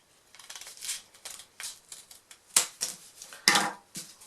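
Scissors snip through folded paper to cut out a paper star, a rapid irregular series of crisp close cuts and rustles, with two sharper snaps standing out, and no voices.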